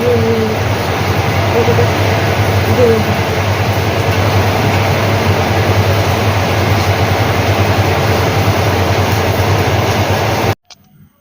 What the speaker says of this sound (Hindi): देखले तो कूलर आवाज केते आउजे पंखा कूलर पूरा लगे दउजन जे बहुते से साउंड पूरा घड़घड़े जाउजे